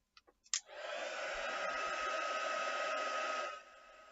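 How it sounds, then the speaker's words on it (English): A heat gun drying stamped VersaFine Clair ink starts after a few soft clicks and blows with a steady, close, high-pitched whine for about three seconds, then shuts off. "I need to just give it a quick dry. So good old heat gun again."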